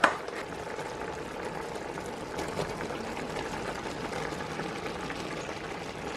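A pot of saltfish rundown simmering, a soft continuous bubbling hiss that stays even and fairly quiet throughout, with no voices over it.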